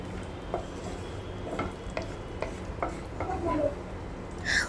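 Almonds and cashews fry in ghee while a spoon stirs them through the pan, giving a steady soft sizzle broken by scattered light scrapes and clinks, with a brighter scrape near the end.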